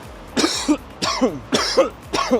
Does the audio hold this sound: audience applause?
no